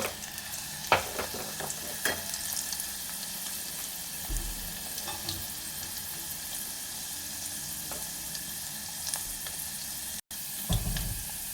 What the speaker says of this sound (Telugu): ఇంకా వెల్లుల్లిపాయలు అయితే మగ్గిపోయాయి ఫ్రెండ్స్